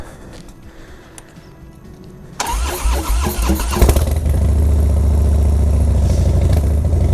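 A Harley Dyna motorcycle engine, fitted with a new Barnett heavy duty clutch, cranks and fires up after quiet shop ambience, then settles into a loud, steady, rumbling idle close by.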